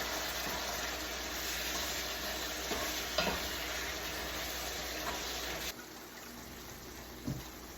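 Mongolian beef sauce with Calabrian peppers bubbles and sizzles quietly in a pan over medium-low heat, with a few soft stirring clinks before the sound drops lower.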